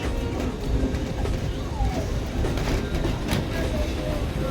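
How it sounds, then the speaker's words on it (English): A 1926 steam locomotive pulls a vintage train rolling steadily along the tracks, with a continuous rumble and faint rhythmic clatter of wheels. "the engine pulling your train today is number 108, which was manufactured in 1926"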